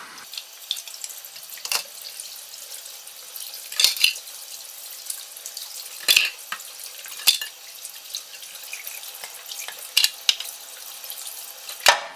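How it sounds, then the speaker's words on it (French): Tap water runs steadily into a kitchen sink while juicer parts are scrubbed with a small brush, a continuous close splashing hiss broken by occasional sharper clatters and drips. "on fait couler l'eau en utilisant la petite brosse qui va bien"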